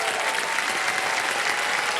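Sustained, dense applause from a large studio audience on the quiz show Kaun Banega Crorepati, loud and even throughout with no talking over it.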